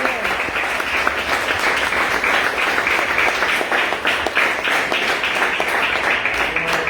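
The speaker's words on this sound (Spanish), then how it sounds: "Denle un aplauso al Señor y sus pastores por eso." Sustained applause from a church congregation at a worship service, a dense wash of many hands clapping steadily and loudly throughout, with voices mixed in.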